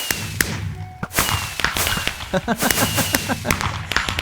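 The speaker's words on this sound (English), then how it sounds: "we set the fireworks off?" Fireworks in the Minecraft Hexxit modpack go off in a rapid, crackling burst of sharp pops and bangs, loud and dense, with a whistling launch streak running through.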